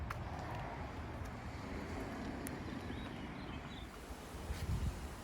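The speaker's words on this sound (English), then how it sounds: "hope the wind noise isn't destroying you" Steady wind buffeting a microphone outdoors beside a stretched Jeep Wrangler TJ, a continuous low rumble that swells slightly near the end, with no talking.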